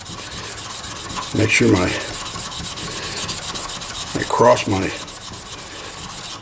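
Rhythmic rasping of sandpaper against a spinning scalloped pen blank on a lathe, in two strong strokes over a steady motor hum, with a brief voice.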